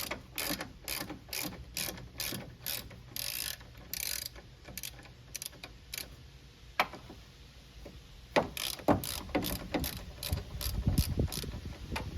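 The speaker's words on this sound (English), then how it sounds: "Now we got to take off these 3 bolts that holds in the old coilover." A hand ratchet clicks in quick, regular bursts while loosening the coilover bolts on a Honda Prelude, close and clear, with short pauses and some clanking of tools toward the end.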